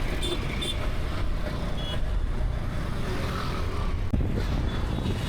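Busy morning road traffic on a bridge: a dense, steady wash of engines and tyres with a few faint beeps and horn-like tones, continuous and moderately loud with no clear talk.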